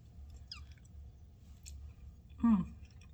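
Someone tasting and chewing a forkful of Cajun chicken alfredo, with faint, close, soft chewing and small wet clicks over a quiet room, plus one louder squish near the end.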